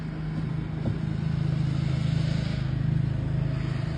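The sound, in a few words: street traffic vehicles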